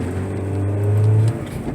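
A 2011 Chevrolet HHR, running with an exhaust cam fault code, revs hard and accelerates close by, its engine drone climbing steadily in pitch for over a second before the throttle drops off.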